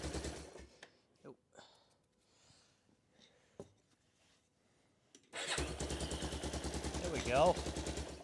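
A 1993 Yamaha Big Bear 350 ATV engine idles loud and close after quiet talk and a few knocks, running rough and uneven from too much fuel, with a steady pulsing chug and someone speaking briefly before it.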